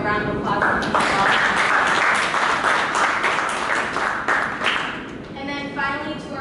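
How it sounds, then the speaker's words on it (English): A round of applause from a tech event audience, a burst of clapping rising quickly and fading out after about five seconds, with a voice speaking over the start and end. "let's give a round of applause to him as well"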